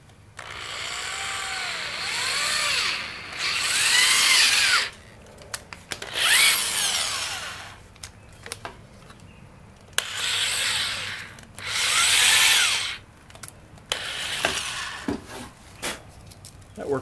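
Nock holes are drilled into a wooden bow in repeated bursts of drilling, each lasting a second or two, separated by pauses with light scraping and knocks, close by and with no talking.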